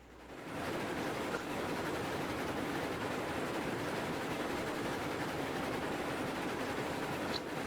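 A train runs in the game Railroads Online with a steady, loud, broadband rumble and rattle that holds constant after a brief quiet start, with no talk.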